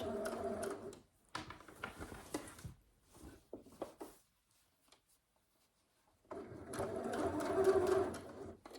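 Sewing machine stitching close to the edge of a pocket on a McCall's 7908 bodice, in two bursts of steady mechanical whirring with needle patter, separated by a few seconds of near silence and faint handling noises.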